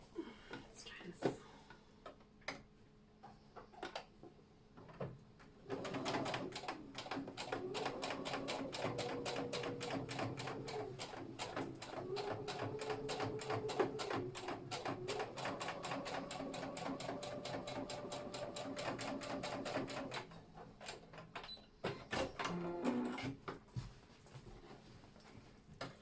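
A home sewing machine topstitching jeans with ordinary thread rather than topstitching thread, running in a steady continuous whir for long stretches and pausing between runs, with clicks and handling noise in the gaps.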